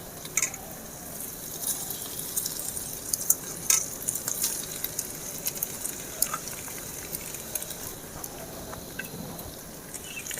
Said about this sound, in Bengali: এবারে আমি পাস্তাটা দিয়ে দেবো এর উপরে